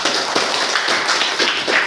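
Classroom students clapping together for a classmate, a dense, steady patter of many hands filling the room at close range, continuous for the whole moment with no talk over it.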